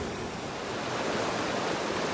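A river flowing along an easy Colorado hiking trail near Rampart and Pueblo reservoirs, heard as a steady, broad rushing wash of water with slight wind buffeting, continuous and fairly close, with no voices.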